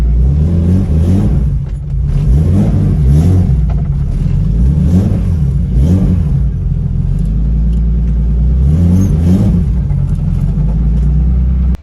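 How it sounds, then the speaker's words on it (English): A BMW E36 with a freshly repaired transmission drives along, its engine droning loudly and rising and falling in pitch through repeated accelerations and gear shifts, with constant road rumble. "E36 is fixed. It is running and driving fine."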